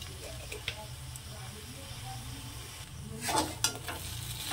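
Egg chow mein with tomato sauce and soy sauce is stirred in a frying pan over a steady low sizzle, with a few faint scraping strokes that grow slightly louder near the end.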